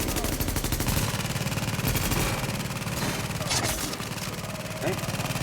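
A player's deployed turret firing in The Division, a rapid, steady rattle of automatic fire running continuously, with someone talking over the shooting.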